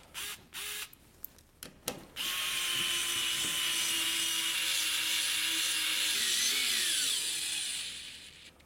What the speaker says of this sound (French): on va mettre un petit coup de tournevis électrique